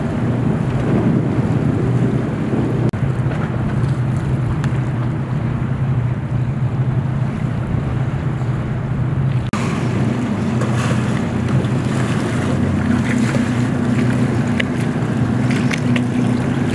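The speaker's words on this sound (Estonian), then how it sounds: "Üks paat tuleb seal" A boat approaches on open water, its steady drone blended with heavy wind buffeting and lapping waves throughout, loud and continuous with no clear change in distance.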